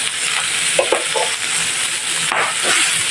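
Pork browning in a hot pan, loud steady sizzle and frying hiss throughout with a few soft stirring scrapes, close and continuous, no talking.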